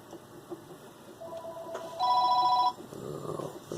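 A Nokia 3.1 Plus phone rings with a steady electronic tone for under a second, loud and close, over low room noise with no talking.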